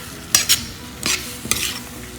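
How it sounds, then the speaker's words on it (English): Moong dal stirred into palak curry: a handful of sharp spoon scrapes and wet clinks against the pot, close and fairly loud, with no talking. "mix it well."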